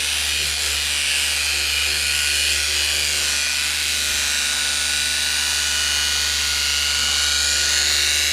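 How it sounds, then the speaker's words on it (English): A small polisher buffs the paint of a 2022 BMW G80 M3 Competition xDrive with a steady high-pitched whine and a low motor hum, running loud and continuous throughout with no talking. "I love this little polisher."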